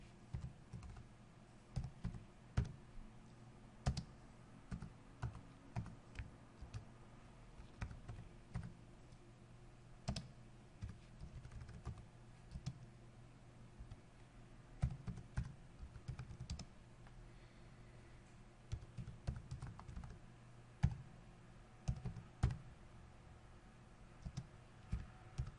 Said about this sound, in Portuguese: eu vou digitar aqui OpenSSL, alguns parâmetros